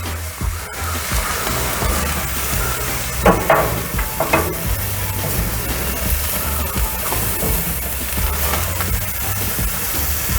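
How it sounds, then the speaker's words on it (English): Hamburger patties sizzle steadily in a pan as they are mashed flat, with a constant frying hiss and a few scraping, clattering touches of a utensil partway through. "Mash them down just a little bit, get some of those juices out"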